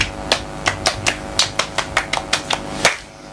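A small group of children clapping for a classmate in a radio studio, a dozen sharp, fairly even claps ringing out close by, alone without talk.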